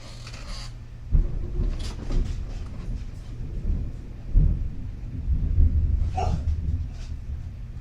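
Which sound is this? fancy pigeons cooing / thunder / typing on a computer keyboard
thunder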